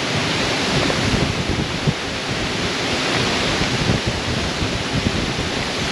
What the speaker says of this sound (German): Aber jetzt habe ich wenigstens mal ein bisschen Mitwind.